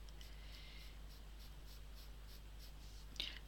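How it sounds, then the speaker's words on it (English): Derwent pastel pencil dragged lightly across paper, soft scratchy strokes in a gentle repeating rhythm, faint and close, with a low hum underneath and a small tap near the end. "literally just dragging it across the page, not pushing down"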